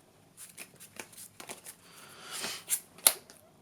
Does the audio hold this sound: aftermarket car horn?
no